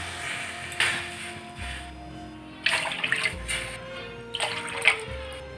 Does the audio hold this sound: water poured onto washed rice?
yes